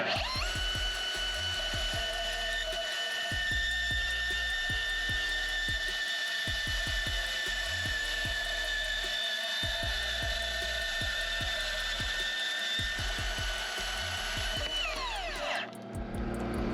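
A rotary power tool cuts through metal during a car exhaust installation, whining steadily with repeated short bursts and brief pauses, ending in a falling spin-down; no talk over it.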